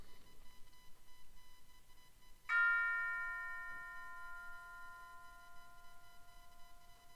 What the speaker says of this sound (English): They're called tubular bells, and you hit it with a hammer